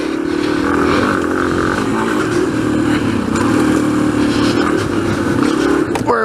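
A motorcycle engine runs steadily and loudly, close by, while the rider brakes without letting it stall, producing a continuous mid-pitched drone with slight fluctuations and a faint clatter near the end.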